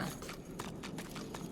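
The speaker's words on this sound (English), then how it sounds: "Horse." Horse hooves clip-clop in a steady walking rhythm in the video game Divinity: Original Sin 2, faint and brief, with no talk.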